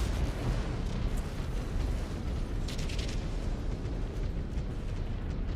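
A mech's reactor explodes in MechWarrior 5: Clans, a continuous, heavy rumbling blast with crackling debris that stays loud for several seconds, with no voices.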